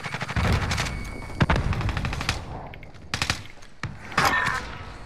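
Gunfire in Call of Duty: Modern Warfare: bursts of rapid automatic shots and sharp single cracks, loud and close, with brief gaps between volleys.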